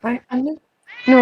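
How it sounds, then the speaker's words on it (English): A house cat meows in a few short, tonal calls, with people talking nearby before and after. "Ah! The cat?"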